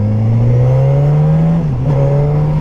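A 2017 Suzuki GSX1000F motorcycle engine pulls hard under acceleration, its steady rising drone dipping briefly at a gear change around two seconds before climbing again, loud and close with constant wind rush.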